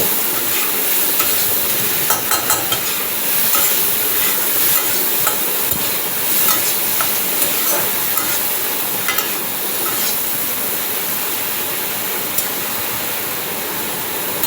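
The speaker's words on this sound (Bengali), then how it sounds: "এবার চিংড়ি মাছটাকেও ভেজে নেব" Shrimp rubbed with salt and a little turmeric fries in a pan with a steady, dense hiss, scattered crackles and occasional stirring clinks across the whole stretch; no one speaks.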